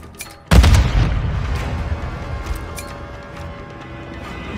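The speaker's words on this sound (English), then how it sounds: "Frag out!" A frag grenade blows up in Call of Duty Warzone Mobile: one loud, close, booming blast after a brief quiet lead-in, then a long rumbling decay that fades slowly.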